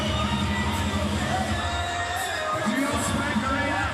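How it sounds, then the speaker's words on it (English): A Sydney crowd cheers and shouts nonstop in an arena during a CrossFit team competition at the 2018 Pacific Regional, a loud dense roar with a commentator's voice running underneath. "give the Sydney crowd something to cheer about, and cheer about they are"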